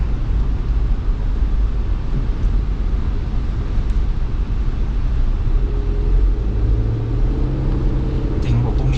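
Steady interior road rumble of an Isuzu MU-X SUV cruising at 80 on cruise control, a continuous low drone with tire and wind noise beneath someone talking throughout.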